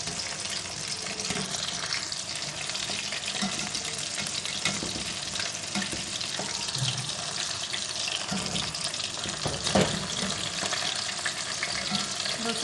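Fish frying in a pan over low heat, a steady, dense sizzle and crackle that runs unbroken throughout, close and fairly loud, with a few soft scrapes as the pieces are turned.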